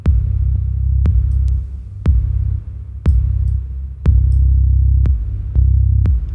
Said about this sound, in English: Another common thing is to add overdrive.